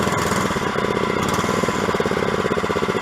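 A Christmas mini bike's small engine runs steadily with a rough, rapid putter, loud and close, its revs rising slightly through the clip with no voices.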